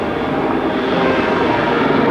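A Lynx helicopter at an air race rendezvous gives off a loud, steady engine and rotor roar that fills the short stretch evenly, with no voices.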